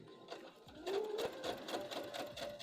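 A home sewing machine stitches a wrap dress, its fast mechanical whir and needle chatter running steadily and fairly quiet throughout, with a louder burst partway through and no talking.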